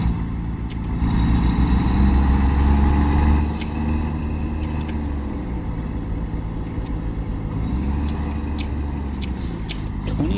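A heavy truck engine in American Truck Simulator drones steadily at low pitch, swelling louder for a couple of seconds before settling into a constant rumble with faint clicks over it, no talk.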